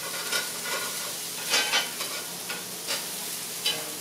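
Swedish meatballs fry in a cast iron skillet with a steady broadband sizzle, broken by several louder scraping bursts as they are stirred and turned, close and without voices.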